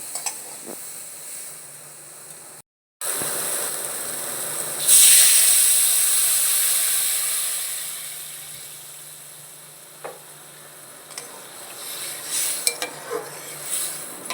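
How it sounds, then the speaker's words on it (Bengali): Water hits a pan of fried drumstick stems after a brief pause, setting off a loud, bright burst of hissing steam that fades into a steady simmering sizzle, with a few faint clinks toward the end. "ডাটাটা আমার ভাজা ভাজা হয়ে গেছে এবার আমি পরিমাণ মতো জল দিয়ে দিব"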